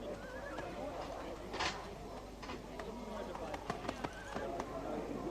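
Racehorses neigh and whinny while hooves clop near the starting stalls before a race, with people talking over the horses throughout.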